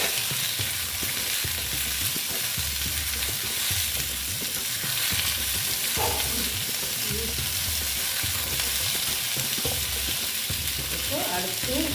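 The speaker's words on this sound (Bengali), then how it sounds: "কুমড়োটা যাতে ভাজা হয়ে যায় আর একটু ভেজে নিচ্ছি" Pumpkin pieces fry in hot oil and are stirred in a pan, giving a loud, steady, close sizzle with intermittent scraping from the stirring, continuing without pause and with no voices.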